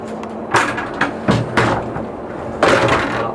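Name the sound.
tram driver's cab door being closed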